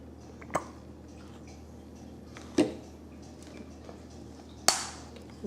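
A bath product batter is mixed after jojoba oil and vitamin E oil are added, giving three sharp, wet squishing strikes spaced a couple of seconds apart over a quiet room.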